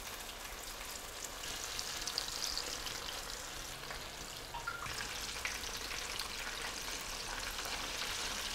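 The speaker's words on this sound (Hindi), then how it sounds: "पकोड़े अच्छे तरीके से फ्राई हो चुके हैं।" Mixed vegetable pakoras frying in hot oil, giving a steady, dense crackling sizzle at moderate closeness with no talk.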